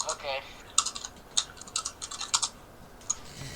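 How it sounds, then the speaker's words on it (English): Hard, fast typing on a computer keyboard, with sharp uneven clicks close to the microphone in quick bursts. "Is that keyboard abuse I hear?"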